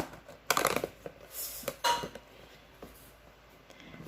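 A potted colored-leaf plant set down into a container whose lid is then closed, giving a few close, light clinks and knocks of hard plastic separated by short pauses in a quiet room.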